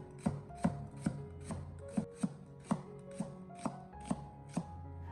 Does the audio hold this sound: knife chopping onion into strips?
yes